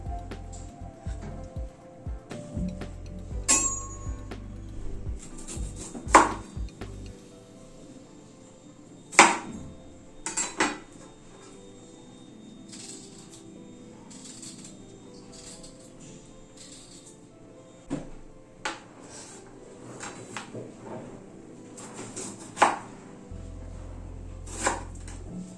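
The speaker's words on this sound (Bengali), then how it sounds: "এভাবে টুকরো করে সব বিটগুলো কেটে নিচ্ছি" A knife chops beetroot into pieces on a board, giving scattered sharp chopping knocks with quiet gaps between them.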